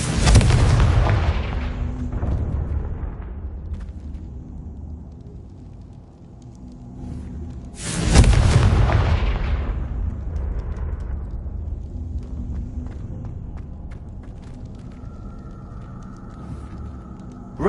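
Two loud, booming blasts from the Confringo explosive spell in Hogwarts Legacy, the second arriving about eight seconds after the first, each trailing off into a long rumbling decay over quiet background ambience.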